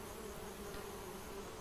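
Bees buzz at a beehive in the adventure game Geheimakte 2, a soft continuous droning hum throughout, faint and steady with no voices.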